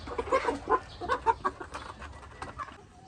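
A flock of eleven White Leghorn replacement breeder hens clucks in a quick run of short, close bursts that thin out toward the end.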